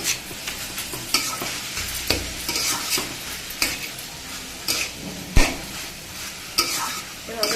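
Banana flower frying in a pan is stirred with a utensil, giving a soft steady sizzle broken by a series of sharp scraping clatters against the pan at irregular intervals.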